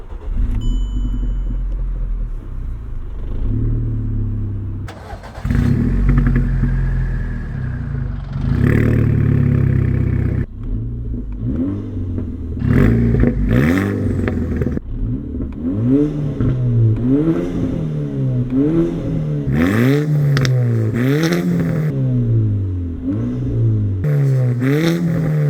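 A modified Volkswagen Mk5 GTI with a lighter flywheel and Stage 2 clutch revs and accelerates on the road, loud engine surging up and down through repeated pulls, with clutch and flywheel chatter rattling beneath.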